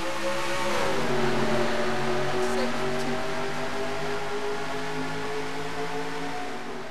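Racing trucks roaring off at the race start at Phoenix in a racing video game, layered engine drones revving and rising together, loud and continuous, easing slightly at the end.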